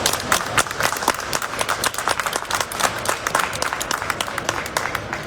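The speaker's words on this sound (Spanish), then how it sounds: "un fuerte aplauso." Strong audience applause at a book launch on schooling children with autism and psychosis, a dense, close burst of many hands clapping with sharp individual claps standing out, continuous for about five seconds.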